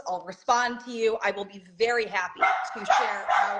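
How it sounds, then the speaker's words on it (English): A pet dog barks with short, repeated yips at close range while a person keeps talking over it. "oh, sorry, that's my dog"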